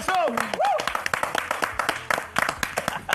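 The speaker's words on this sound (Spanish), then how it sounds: "¿Le podemos recibir con un fuerte aplauso?" Audience claps to welcome a guest at an interview event, scattered and uneven, with a voice calling out over the start and the clapping thinning into separate claps.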